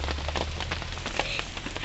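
Steady rain falls during a Durga Puja outing, a dense continuous patter of drops on surfaces, close and fairly loud throughout with no voices.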